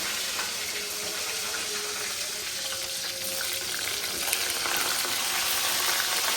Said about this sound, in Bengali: এদিক দিয়ে আঁচটা একটু অল্প দিয়ে সুন্দর করে ভাইজা নিব মশমশা করে